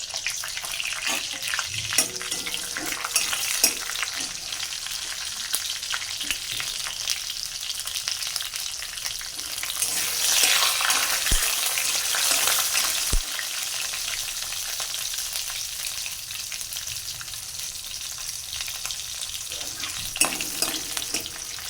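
Bay leaf and two green chillies frying in hot oil in a home kitchen, a steady close sizzle that swells louder for a few seconds midway before settling back to an even crackle.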